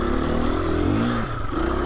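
A Husqvarna motorcycle's rear wheel spins out on a dry, loose trail; a loud, close engine roars continuously, its pitch rising and falling as the throttle works, with no voices.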